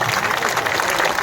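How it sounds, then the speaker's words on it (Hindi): A dense, sustained roar of applause from a crowd at a political party gathering in Bihar, welcoming Manoj Bharti; many hands clap continuously and loudly at an even level throughout. "तालियों से स्वागत होना चाहिए"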